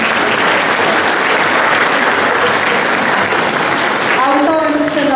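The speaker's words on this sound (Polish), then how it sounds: "Podziękowania i brawa dla twórców spektaklu." Theatre audience applauding at a children's puppet-theatre premiere in Rozniszewo, dense sustained clapping filling the room for about four seconds before a voice begins speaking near the end.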